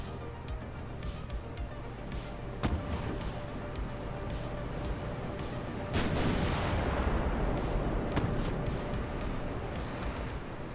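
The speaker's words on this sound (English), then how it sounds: "Engage with both turrets." Naval turret guns fire from a dreadnought in Ultimate Admiral: Dreadnoughts, sounding as a few deep, distant booms over a constant roar of engine and sea noise, with one heavier blast standing out.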